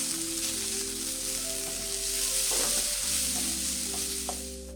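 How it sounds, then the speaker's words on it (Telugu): Crushed red pepper and black pepper sizzle in hot oil in a pan for egg fried rice, a steady close frying hiss with a few scraping stirs of a utensil partway through. "క్రష్డ్ రెడ్ పెప్పరు అండ్ కొంచెం బ్లాక్ పెప్పరు వేయండి. వేసి ఒకసారి కలుపుకోండి మాడిపోకుండా ఉండడానికి."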